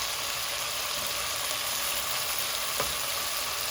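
Spicy chicken tikka boti frying on a tawa over high heat, with a loud, continuous close-up sizzle that stays steady throughout and carries a single faint knock near the end.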